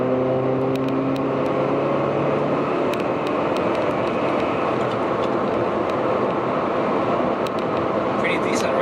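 A 5th-generation Honda Prelude engine after a downshift, a loud steady drone with tonal revving early on, settling into continuous road and engine roar as someone speaks over it.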